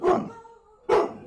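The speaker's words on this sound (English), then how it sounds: "He's just, he's got the best bark in all of them." A dog gives two loud, deep barks close by, separated by a short pause with a faint hum in between.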